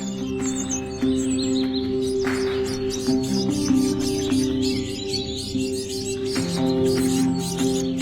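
Parent bird and chicks chirping in a nest, with busy overlapping high tweets and peeps running steadily throughout, close and moderately loud, with a steady tonal hum beneath.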